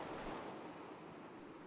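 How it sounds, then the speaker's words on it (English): Steady wash of ocean surf rolling onto a gloomy moonlit beach in a video game scene, a continuous broadband roar at moderate level with no voices. "Here, we could hear the sound of waves, which reminded me of our island home."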